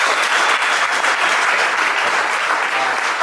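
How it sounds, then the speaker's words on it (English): An audience at a GOP House candidate forum in a deli claps for three candidates: steady, loud, full applause from a roomful of people that holds evenly from start to finish. "I would like for you all to give them a round of applause for having done this."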